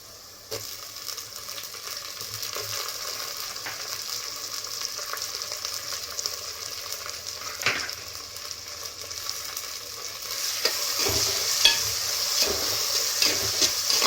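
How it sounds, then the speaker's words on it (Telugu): Tomatoes sizzle and fry in a pan with taro root and salt, a steady hiss with occasional stirring scrapes that grows louder and crackles more toward the end. "నెక్స్ట్ ఈ టమోటాలు కూడా వేసేసుకుంటున్నానండి."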